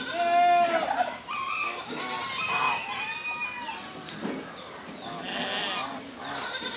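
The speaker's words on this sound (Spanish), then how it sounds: "encontramos a las alegres e inquietas cabras, esperando su turno para ser ordeñadas" Goats on a family goat farm awaiting milking, bleating repeatedly and fairly close, with rooster-like crowing and clucking fowl mixed in among the farmyard chorus.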